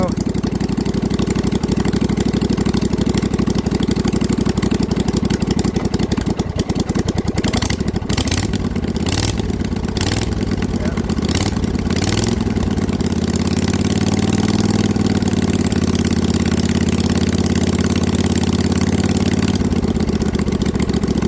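A riding snow mower engine idles and warms up with a steady, loud mid-pitched running note that holds for the full length, broken by a few brief revving or sputtering bursts partway through.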